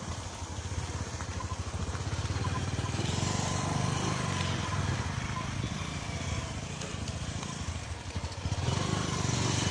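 A motorcycle labours along a rough, difficult road in Mbuji-Mayi, with a continuous, fairly close engine drone and some rattling throughout.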